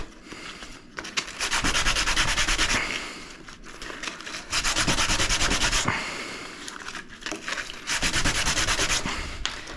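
A plastic scraper rasps along a ski base during a home tune, in long loud strokes with short pauses between them, close up and with no voices.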